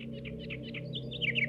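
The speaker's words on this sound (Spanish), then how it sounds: "los pájaros hayan elevado el tono de sus cantos para poder comunicarse" Birds chirp in a city, a rapid run of high twittering notes laid over a steady low hum of urban traffic noise, fairly close and clear.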